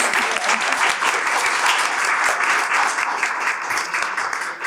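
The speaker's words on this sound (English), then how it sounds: "I think you deserve a round of applause for them." A conference audience at a policy discussion applauds the speakers, with close, continuous clapping that stays loud and even throughout.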